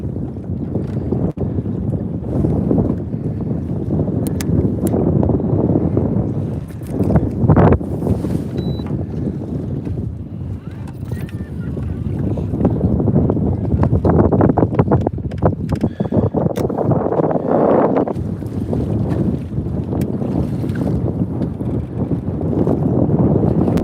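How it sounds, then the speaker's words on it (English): Strong, steady wind blows across an open lake, roaring and buffeting close to the microphone with gusty surges throughout and no other clear sounds. "the wind is picking up"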